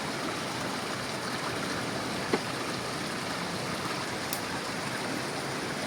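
A river rushes steadily in a continuous broadband wash of flowing water, close and even throughout, with a tiny click partway through and no speech.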